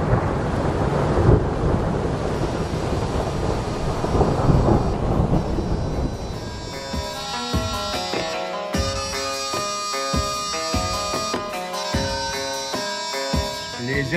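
Rain and rolling thunder at an ancient Egyptian temple of Hathor and Ramses III: heavy broadband rumble and downpour in the first half, giving way to music with rain and thunder still present.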